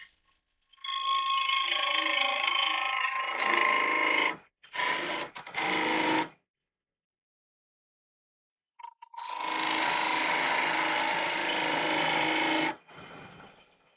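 Skew chisel cutting spinning wood on a lathe, a harsh, sustained scraping whine in two long runs separated by brief stops and a silent gap, close and loud, with no talking.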